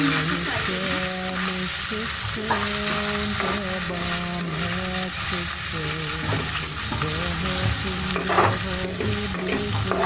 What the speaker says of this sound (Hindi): सबसे पहले हम डालेंगे इसमें चिकन। इसको हम थोड़ा सा फ्राई करेंगे।